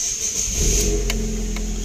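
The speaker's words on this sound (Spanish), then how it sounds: "Y ahora vamos a encender el auto." A car engine starts up at close range after a computer reset, a sharp cranking burst settling into a steady idle hum with no talking.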